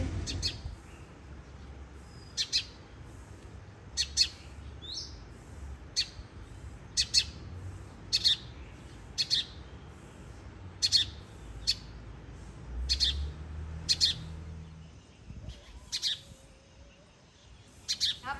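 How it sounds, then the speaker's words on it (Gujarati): Sharp, bright sparrow chirps repeat at a steady pace, small and clear against a quiet background with faint low rumbling. "ત્યારની એક મસ્ત ચકલી બોલે છે તમને બધાને બતાવું"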